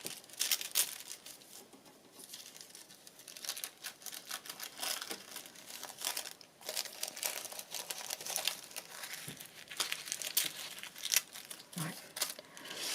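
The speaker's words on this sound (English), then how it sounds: "Who knew tissue paper could be so awkward to tear?" Tissue paper being torn and crumpled by hand, with close crinkling and tearing bursts that come and go in uneven clusters, fairly quiet and with no voice over it.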